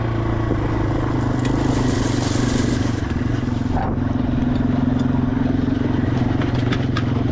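A Yamaha TW200 motorcycle with fat tires riding over loose gravel on an abandoned railroad bed, a steady engine drone with constant crunching gravel and wind noise, close and continuous.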